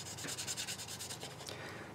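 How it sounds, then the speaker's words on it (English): A plastic model car kit body for a Revell Ford F-100 Foose Edition pickup is sanded by hand with quick, rhythmic rubbing strokes, close and fairly soft. "all I'm doing right now is I'm just sanding down"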